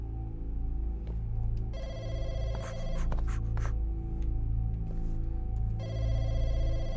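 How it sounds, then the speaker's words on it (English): A public phone in the video game Firework rings in repeated electronic trill bursts over a low droning ambience, clear and fairly close, with a pause between rings. "It's the phone in the public phone market."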